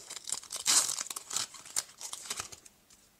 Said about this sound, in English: I'm going to cut them off with scissors.